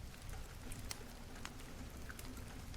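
Soft, steady rain with scattered droplet ticks and a quiet wash of patter, faint and continuous in the background with no voices.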